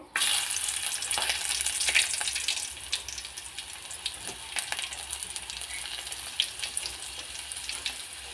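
Four or five garlic cloves dropped into heated oil, a loud burst of frying that settles into a steady crackling sizzle with occasional pops and light clicks, close and without talk.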